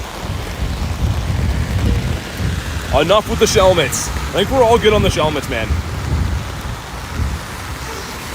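Heavy rain pours steadily throughout, with a deep rumbling low undertone, while someone speaks over it in the middle.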